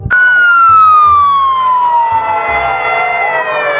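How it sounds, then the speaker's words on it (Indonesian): A loud electronic fire-truck siren from a toy, a single descending wail that sweeps downward and continues buzzing, close and dominant. "Widih-widih, mobil pemadam kebakaran lagi"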